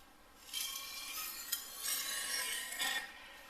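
A kitchen knife scrapes along a whetstone in several rhythmic, close strokes, each a bright rasping swipe, with no voices over it.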